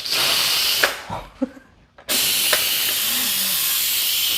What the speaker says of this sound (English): so my rice was done a while ago, so I'm gonna go ahead and let the steam off of it